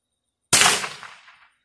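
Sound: gunshot of a regular ammunition round

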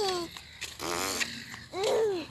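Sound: child imitating a fart sound

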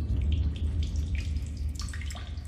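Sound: water in the video game The SOLUS Project

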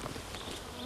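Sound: mosquito buzzing

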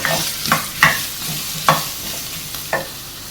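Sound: stirring and sautéing crushed green chillies in a pan for aloo pulao

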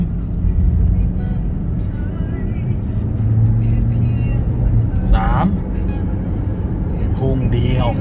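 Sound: Honda CR-V 2.0 i-VTEC accelerating through first and second gear

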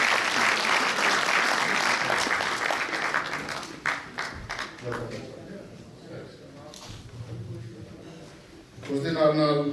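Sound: audience applause welcoming Dr. Harish Khare

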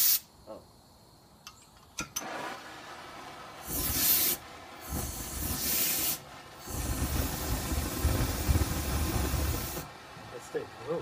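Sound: spraying canned computer dust remover

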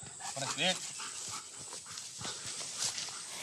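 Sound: Belgian shepherd explosives-detection dog panting

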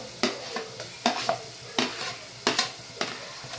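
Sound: ginger garlic paste sizzling with onions in pan

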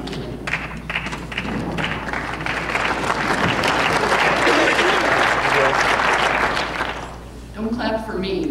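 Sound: audience applause

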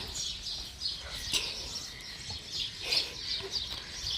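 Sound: rooster crowing and birds calling at dawn

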